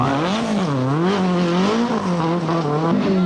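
A rally car's engine howls and wavers through a tightening right-hander on a 1982 RAC Rally stage, loud and close, its pitch rising and dipping as the driver works the throttle through the bend.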